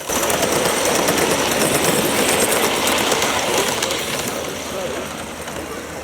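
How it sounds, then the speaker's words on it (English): A model LMS Duchess class locomotive runs steadily on 45mm gauge track at an open day layout, giving a continuous close rolling rumble and clatter with a slight fade near the end. "we're starting off on the 45mm gauge table with this very nice LMS Duchess class locomotive"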